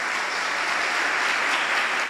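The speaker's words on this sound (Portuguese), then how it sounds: "Dê uma salva de palmas para Jesus." A church congregation applauds steadily after a preacher's call to clap for Jesus, a dense, even wash of many hands lasting a couple of seconds before trailing off.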